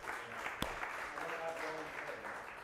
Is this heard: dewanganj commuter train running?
no